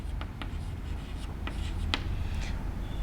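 Writing out a trigonometry equation during a maths lecture, pen strokes scratch in short quick bursts, close and fairly faint over a low room hum, with no talk.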